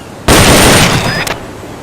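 A single sharp weapon shot fires during shooting practice in Metal Gear Solid: Peace Walker on PSP, loud and close, followed by a short decaying tail and a small metallic click.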